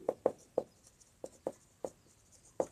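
Pen or marker strokes while working a class 12 linear differential equation problem, heard as a string of short, close scratchy taps in an uneven rhythm with quiet gaps between them.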